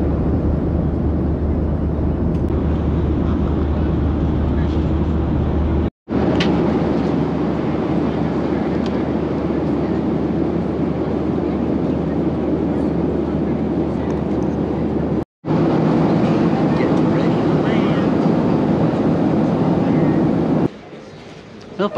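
Steady loud roar of an airliner cabin in flight on the way to Salt Lake City, Utah, a continuous broadband drone with two brief cut-outs and no talk.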